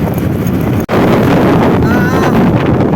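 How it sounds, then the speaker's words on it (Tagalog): Strong wind roars steadily against the microphone while cycling on a highway, loud and continuous, with one brief cutout partway through. "Grabe yung hangin."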